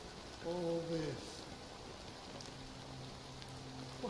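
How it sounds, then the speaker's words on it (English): Steady rain falls as a constant wash of noise throughout, with a brief voice and a few sustained tones rising above it early on and later in the clip. "it's still raining."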